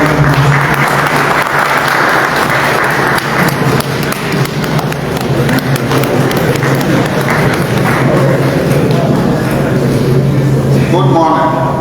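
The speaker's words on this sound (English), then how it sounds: "Please give a round of applause." An audience claps steadily and loudly throughout at a finance ministry strategic plan retreat, a dense, sustained round of applause that swells near the end.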